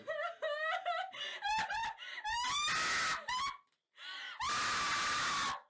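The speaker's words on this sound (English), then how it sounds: "Emma screams a lot over the guy's exposition" A woman in a 2013 Slender Man film screams again and again, loud shrill cries broken into bursts with short gaps, ending in a long sustained wail.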